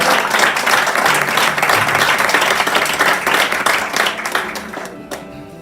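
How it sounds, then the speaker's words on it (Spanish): A church congregation claps loudly and steadily in sustained applause that stays full for several seconds, then thins out toward the end. "Si le dan un aplauso para el Señor, déselo fuerte."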